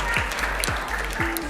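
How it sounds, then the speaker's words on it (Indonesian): An audience of students in a school hall claps steadily, a dense wash of applause with a few low thumps underneath, continuing throughout. "Boleh tepuk tangan lagi buat Mas Faisal"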